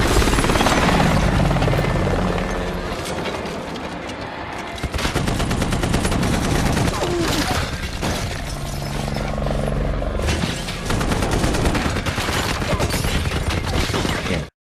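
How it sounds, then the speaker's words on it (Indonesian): Attack helicopter in a James Bond film opens fire on a house, with dense rapid bursts of machine-gun fire and crashing impacts over a constant rotor roar, loud and sustained throughout. "sebuah helikopter tempur datang dan menembaki rumahnya."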